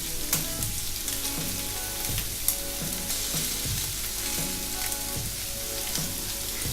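Pork sizzles steadily in a pan during a Thai basil pork with green beans dish, with a constant loud frying hiss and periodic scraping and stirring knocks throughout, no voices.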